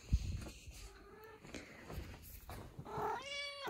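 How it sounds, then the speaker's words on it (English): A house cat gives a short, fairly quiet meow at the close, after soft rustling and light handling noises in an indoor room. "Here's my cat."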